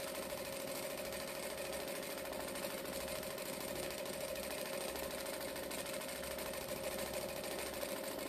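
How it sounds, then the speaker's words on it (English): A sewing machine stitches along the edge of a piece, running with a steady, continuous mechanical hum and fast rhythmic vibration throughout, close and moderately loud with no talk. "So now I'm going to come up here and just stitch that edge bit in."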